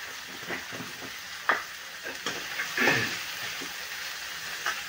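Tomato masala for dhaba-style whole masoor fries in a pan, soft continuous sizzling broken by several sharp scrapes and clinks of a spoon stirring against the metal, with no talk.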